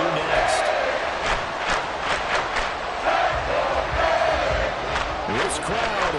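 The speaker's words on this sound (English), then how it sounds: "This crowd doing all they can." A football stadium crowd roars steadily during a Dolphins game near the goal line, a dense sustained wash of cheering and yelling with a commentator talking over it.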